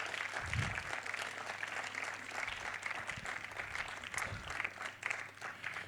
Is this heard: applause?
yes